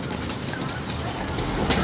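Pet pigeons cooing close by, soft low throaty calls under a noisy, crowded background with some sharp chirps near the end.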